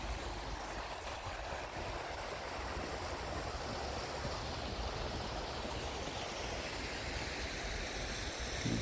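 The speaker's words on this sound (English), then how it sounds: "Here's the creek." A creek flows steadily in snowy autumn Boulder, a constant broadband rushing wash with no breaks, close and fairly loud, with no voices.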